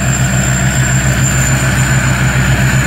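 A combine harvester's engine runs steadily, a loud, continuous low drone with a mechanical whine on top, unchanging throughout and heard close up with no talking.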